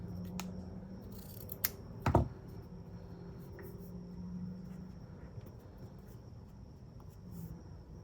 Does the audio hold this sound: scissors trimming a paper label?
yes